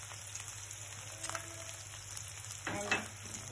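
Ginger garlic paste sizzles and fries steadily in a hot pan, with a brief louder stir of crackling near the end.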